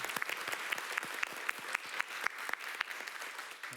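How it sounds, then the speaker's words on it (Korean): An audience at a K-pop panel talk claps steadily, a dense patter of many hands applauding with no voices standing out. "박수 부탁드립니다"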